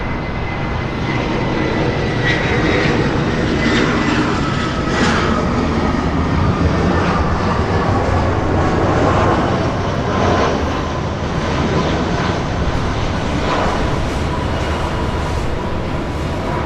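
Airliners at Los Angeles LAX, including a Delta A319, fill the air with a loud, continuous jet engine roar that holds steady throughout, close and broadband, with no voices.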